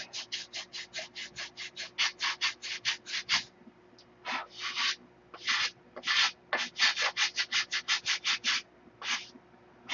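Hand sanding of wooden model aircraft ribs: rapid rhythmic back-and-forth rasping strokes, close and fairly loud, in quick bursts with a brief pause partway through, then resuming at the same brisk pace.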